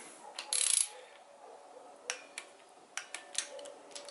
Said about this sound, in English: I'm gonna go ahead and torque all these injector hold downs to 44 inch pounds